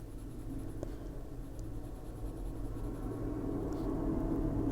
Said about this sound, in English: If you want to make those lines darker, you can just use your black pencil here.